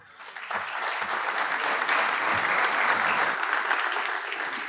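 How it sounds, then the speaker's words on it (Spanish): A crowd at a talk on beneficial microorganisms in avocado farming applauds to welcome a doctor. The steady clapping swells in quickly, stays full and even for several seconds, then begins to thin out, with no voices over it. "Por favor, un aplauso para el doctor"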